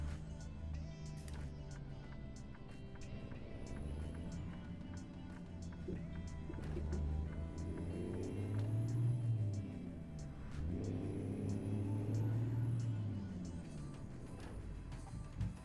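Simulated car engine in a racing game driven with a Moza R5 wheel, revving up and down in repeated rising and falling sweeps with gear shifts, steady and moderately loud, with faint tyre squeals.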